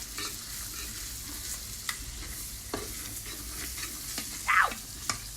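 Sweet shrimp paste going into a sizzling pan while Thai shrimp bucket dishes are cooked, a steady hiss with scattered stirring scrapes and a brief louder spatter toward the end.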